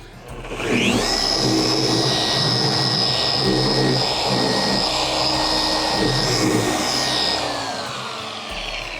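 A Rupes car polisher runs on a low setting spreading polish, whirring up to a steady loud high whine with a constant tone, then winding down toward the end, close and without talk.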